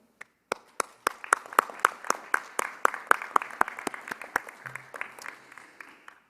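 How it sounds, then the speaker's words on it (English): A graduation audience at a UCLA commencement bursts into applause after a few scattered opening claps, dense steady clapping filling the room and carrying on to the end. "this won't be the last time you hear a round of applause"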